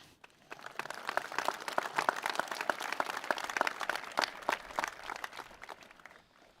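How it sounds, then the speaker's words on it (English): A small commencement ceremony crowd claps for several seconds, a dense patter of applause that swells and then tapers off, moderately distant. "I think we deserve to give ourselves a big round of applause"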